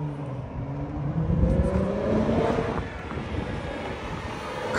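A car engine runs loudly and steadily nearby, a broad rumbling drone with rising harmonic tones as it revs and pulls away, continuing without speech throughout.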